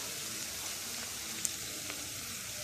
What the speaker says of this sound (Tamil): கருவேப்பிலை கொஞ்சம் எல்லாம் நல்லா வதக்கிடுங்க